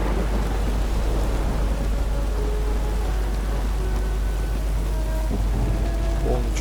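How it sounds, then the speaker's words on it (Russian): Steady rain and rolling thunder in The Witcher 3: Wild Hunt, a loud continuous downpour with a deep low rumble throughout and no voices. "А дождь все не перестает."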